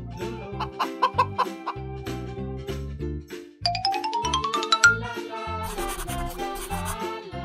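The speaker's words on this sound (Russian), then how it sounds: "Курица." A chicken clucks in a few short calls over bouncy, repetitive children's cartoon music with a rising whistle-like slide, the bird sounds blending into the steady musical beat.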